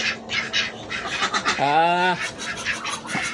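Ducks squawk and quack nearby, one loud drawn-out call standing out amid a busy chorus of others.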